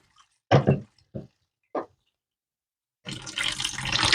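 Cold water is poured into a pot while pumpkin is being prepared for curry, with a few short splashes and then a steady close rushing pour.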